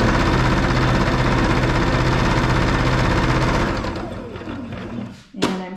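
A Baby Lock Jazz II sewing machine stitches a tight circle during free-motion quilting with a loud, steady motor hum and needle rattle that slows and fades near the end, followed by a brief clunk.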